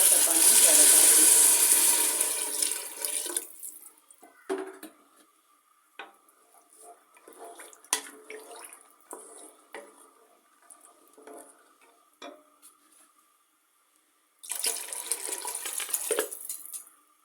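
Water gushes loudly into a pot of black-eyed beans being cooked, then stops, leaving scattered clinks and taps of the pot before a second shorter pour near the end.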